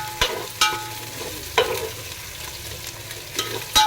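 Ginger garlic paste frying in a pan for chicken biryani while being stirred, a steady low sizzle broken by several sharp spoon scrapes and knocks against the pan, close up with no voices.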